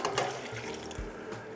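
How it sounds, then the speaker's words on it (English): A can of water is poured into a pot of sausage vegetable soup, a continuous close splashing and gurgling flow with faint metallic clinks. "I'm going to add 1 can of water"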